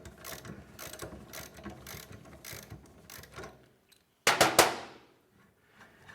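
A hand ratchet with a metric socket turns bolts to remove the seat from a John Deere 1025R subcompact tractor, a run of quick close clicks that stops, then a short loud burst of clatter and silence.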